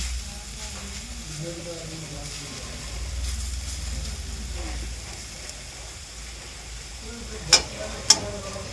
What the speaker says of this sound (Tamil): இன்னும் 2 நிமிஷம் இல்லை 1 நிமிஷம் நல்லா வதக்கி விட்டு ஆஃப் பண்ணுற வேண்டியதுதான்.